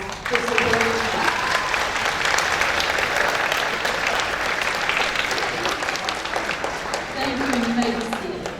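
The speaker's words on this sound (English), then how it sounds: "students, if you would give them a round of applause for supporting us" Students at a middle school awards night applaud their supporters with sustained, loud crowd clapping that fills the room, a few voices briefly audible over it near the start and end.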